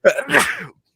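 A single sharp sneeze bursts out close up, a quick intake followed by a loud spray of noise lasting under a second, then silence.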